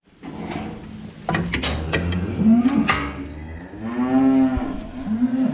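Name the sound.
cow mooing on a dairy farm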